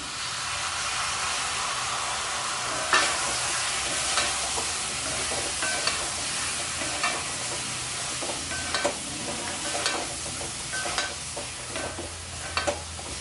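Ground coconut paste fries in oil for a Chettinad eggplant curry, a steady loud sizzle and hiss with frequent stirring scrapes and spoon taps against the pan.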